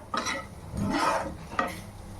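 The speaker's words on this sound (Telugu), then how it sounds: "కారం వేసిన తర్వాత ఇలా అయితే కలుపుకోండి బాగా." Paneer bhurji being stirred in a pan after chili powder goes in: a few close scraping strokes and a clink of a spoon against the pan, with a soft sizzle beneath and nothing else heard.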